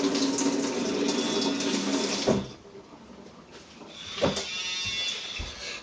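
Coffee equipment rinsed under a running tap, a steady close rush of water that cuts off briefly with a clatter, then resumes more softly and builds again.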